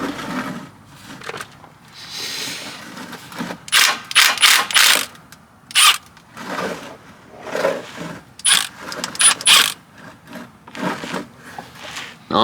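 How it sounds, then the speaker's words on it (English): Milwaukee impact wrench loosening a drain bolt on a 1992–2000 Honda Civic, heard as several short, loud rattling bursts with gaps between them. "I'm going to use my Milwaukee impact here"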